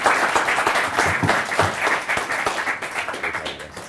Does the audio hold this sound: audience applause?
yes